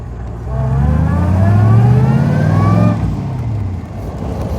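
A Daimler SP250 V8 pulls away in first gear, its engine note rising loudly with a distinct whine from the straight-cut gears climbing in pitch, then easing off as the driver lifts.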